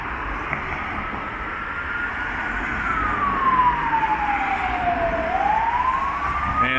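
An emergency vehicle siren wails on Andrassy Avenue, a Budapest city boulevard, first rising then sweeping down and back up, growing louder over steady street noise.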